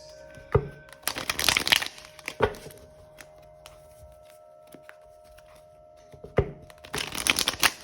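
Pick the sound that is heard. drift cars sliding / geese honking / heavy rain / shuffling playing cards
shuffling playing cards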